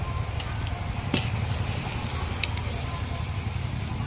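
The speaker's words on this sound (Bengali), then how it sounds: "এরকম লাল লাল করে মইঠাগুলো একদম ভেজে নিতে হবে" Moitha dumplings deep-frying in hot oil, a steady dense sizzle with occasional small pops and crackles, close and continuous throughout.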